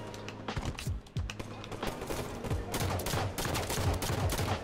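Rapid bursts of gunfire in the Halo 5 video game crack in quick irregular volleys throughout, sharp and close, with no talk over them.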